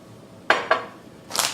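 Salad tossed with dressing in a bowl, a few close clinks and scrapes of utensils against the dish, two quick knocks and then a brighter rattle, with no one speaking.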